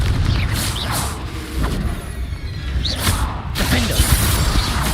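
A Confringo fire spell bursting in Hogwarts Legacy, a few short whooshing blasts and thuds over a rumbling game soundscape, loud and close.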